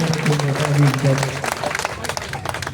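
An audience at a gathering in Bhangar applauds in a short burst of clapping, partly overlapped by a voice speaking.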